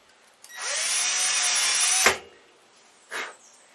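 A power drill bores the first hole for a Weaver mount on a QB78 air rifle, whining steadily for about a second and a half before stopping abruptly, followed by a short scrape or clunk.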